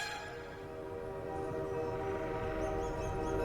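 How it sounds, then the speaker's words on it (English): A train rumbles steadily with a sustained, tonal horn or whistle drone, heard at moderate distance and growing slightly louder. "It's the Grand Canyon Railway."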